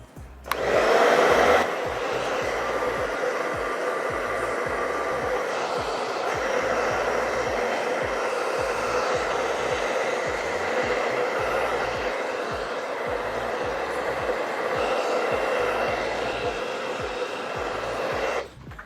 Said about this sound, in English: we will blow dry it in the long areas with a comb and brush it towards the edges with a brush